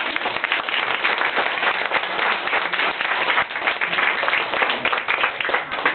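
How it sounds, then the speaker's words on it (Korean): A church congregation claps in a dense, continuous round of applause that holds steady for several seconds. "누군지 몰라서 우선 박수부터 쳐주십니다."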